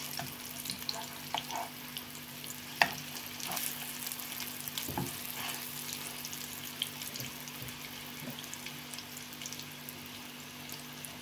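A chive, egg and flour pancake fries on its second side in oil over low heat, giving a steady, soft sizzle with scattered small pops and light clicks throughout, no voices.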